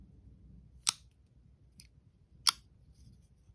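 Two sharp metallic snaps from a Spyderco Para 3 folding knife flicking open, with a faint lighter click between them, each crisp and close against a quiet room.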